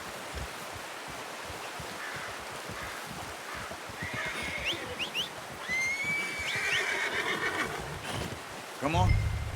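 Horse in the Red Dead Redemption 2 video game whinnies in a rising, quavering call near the end, with earlier snorting and shuffling under a steady background hiss.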